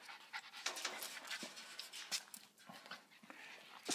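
A young dog pants in quick, soft, breathy bursts close by, with faint whimpers mixed in and no talk over it.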